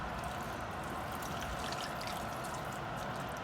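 Water poured into a pot of Guyanese vegetable cookup rice, a steady, fairly loud broadband rush that holds evenly for a few seconds with no talk over it.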